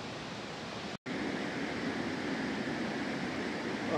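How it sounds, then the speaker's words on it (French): Steady broadband rush of a waterfall cascading below in a eucalyptus forest, loud and continuous with a brief cut near the start. "je vais te faire voir la cascade en bas"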